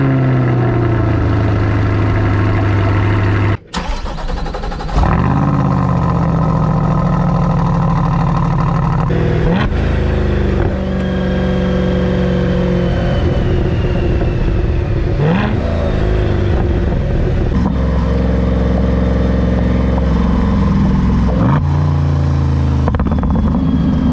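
A C8 Corvette fitted with an aftermarket ArmyTrix exhaust idles with a deep, steady rumble, broken by several sharp revs that rise and fall, loud and close throughout.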